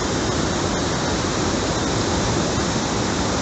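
A mountain river in Uttarakhand rushes past, a loud, steady broadband roar of flowing water that holds unchanged throughout with no voices.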